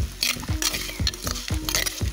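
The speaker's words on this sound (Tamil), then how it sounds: "சோம்பு, கசகசா, லவங்கம், பட்டை, பிரிஞ்சி இலை எல்லாத்தையும் ஆட் பண்ணி நல்லா வதக்கிக்கலாம்" Fennel seeds, poppy seeds, cloves, cinnamon and bay leaf are sautéed in hot oil for chicken curry cooked outdoors in a forest. A spoon scrapes the pan in steady strokes about every half second over a constant close sizzle.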